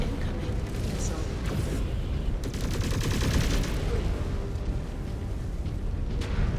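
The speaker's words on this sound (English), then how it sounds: "Incoming missile." Missile fire raining in during a MechWarrior battle, a dense close barrage of rapid explosive bursts and rumbling impacts, heaviest in the middle and continuing throughout, with a voice speaking over part of it.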